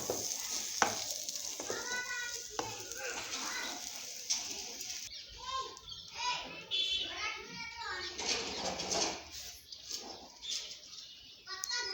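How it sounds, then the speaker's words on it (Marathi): Mustard-seed tempering sizzles and crackles continuously in hot oil for a cauliflower dish, with occasional stirring and voices talking faintly over it. "फोडणी तर टाकली जराशी वरून पण टाकली"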